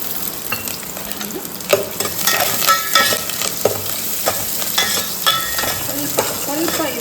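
Curry leaves and onion fry in oil in a pan, a continuous sizzle with repeated scrapes and clinks of stirring at an irregular pace, close and fairly loud, with no voices.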